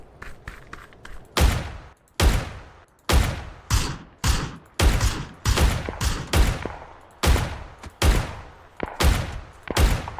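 Gunfire in the battle royale game PUBG: a rapid series of loud, sharp shots in uneven bursts, some near and punchy, others trailing off with echo, spread through the whole stretch with no talk over them.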